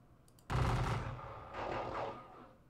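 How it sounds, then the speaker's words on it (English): A heavy crash of massed Confederate rifle fire in a Gettysburg battle game, one sharp loud volley that rolls on, then a second, slightly softer rumble of musketry about a second later. "These Confederate volleys are just"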